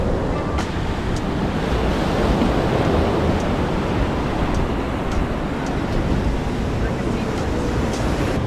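Ocean surf washing onto a beach on Oahu, Hawaii, a continuous loud roar mixed with heavy wind buffeting the microphone.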